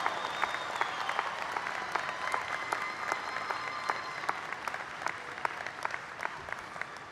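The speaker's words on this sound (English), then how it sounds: "graduates, would you give them a round of applause and thank them for their support?" Applause at a college commencement ceremony, a large crowd clapping in a broad continuous wash with scattered sharp individual claps, sustained and even, with faint cheering tones mixed in.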